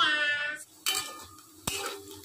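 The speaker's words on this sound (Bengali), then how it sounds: "এখানে কাঁকরোল আর আলু ভাজা হচ্ছে" Teasel gourd and potato pieces fry in a pan, with a soft sizzle broken by two sharp scraping stirs of a utensil against the metal.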